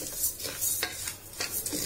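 Kodo millet and moong dal dry-roasting in a pressure cooker, grains rustling and hissing softly as they are stirred, with a few sharp scrapes against the metal.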